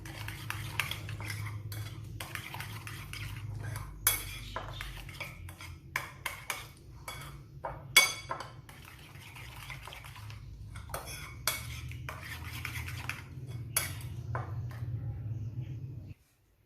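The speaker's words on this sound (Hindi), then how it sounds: "इन सबको मिक्स कर लेते हैं अच्छे से।" Chicken marinade of spices and a few drops of food colour being stirred in a bowl: a spoon scrapes and clinks repeatedly against the bowl in uneven bursts over a faint background hum.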